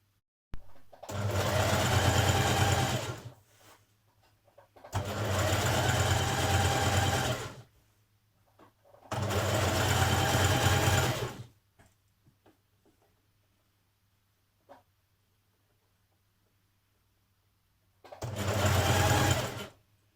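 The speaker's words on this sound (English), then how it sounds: "we're going to top stitch around this shoulder tab" A sewing machine top stitches around a dress shoulder tab in four separate bursts of two to three seconds each, with quiet gaps between them. The whirring is close and clear, with no talk.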